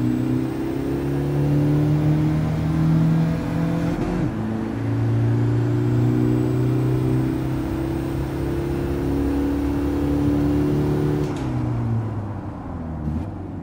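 Car engine in a video game braking test, a steady droning hum that rises and holds while the car drives straight, with a brief dip partway through and no talk over it.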